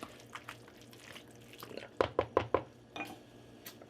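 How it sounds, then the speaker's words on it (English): Tomato sauce being stirred into pasta in a pan, with quiet wet squishing and a quick run of four or five metal utensil clinks against the pan, close and fairly soft, no talk. "Throw in a whole can of tomato sauce. Stir that in."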